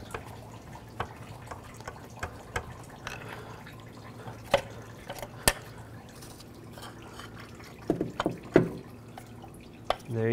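Coolant drains from the opening left by a removed water pump on a 1999-2003 Toyota Solara engine. It falls as scattered drips and small splashes, with a busier trickle near the end, quiet and close up.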